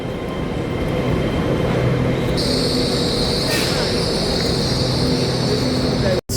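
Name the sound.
passenger train running on rails toward Leeds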